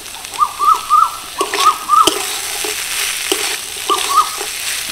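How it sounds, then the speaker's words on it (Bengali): Cashews and raisins are stirred and fried in a pan with cooked potato and carrot, giving soft sizzling under a few sharp scraping strokes of a spatula and brief bright clinks, close and moderately loud. "হালকা নেড়ে চেড়ে নেব।"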